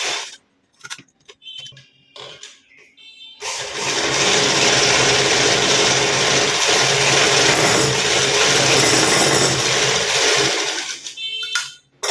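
A sewing machine stitches piping on a high-neck blouse, running in one loud, steady burst of several seconds after a few faint handling clicks, then stopping.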